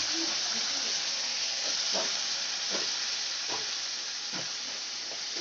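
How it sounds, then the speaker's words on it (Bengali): Paste of onion, green chilli, garlic and ginger frying in oil for a katla fish curry, a loud continuous hiss with a regular spatula scrape roughly once per second. "মশলাটা কষিয়ে নেব, কারণ পেঁয়াজের মধ্যে একটা কাঁচা গন্ধ থাকে"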